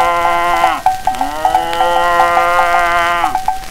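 A voice imitates a cow mooing, giving several long, drawn-out lowing calls one after another, close and loud, in an old 1922 recording with no other sounds.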